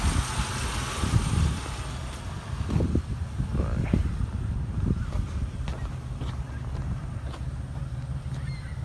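A 1996 Pontiac Grand Prix SE coupe with dual exhaust idles nearby, giving a steady low rumble with some wind noise and a few light knocks over it.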